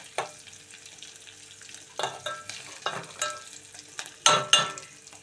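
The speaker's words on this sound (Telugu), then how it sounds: "తాలింపు వేగిందండి, ఉల్లిపాయలు పచ్చిమిరపకాయలు వేగాయి." Onions and green chillies fry in a Telugu tempering for an ivy gourd and tomato curry, crackling softly with scattered stirring scrapes and louder sizzling bursts near the end, with no voices.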